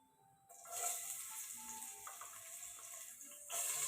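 Large chopped onion frying in hot oil in a pan for chicken gravy, a soft steady sizzle close by that swells slightly at the start and near the end.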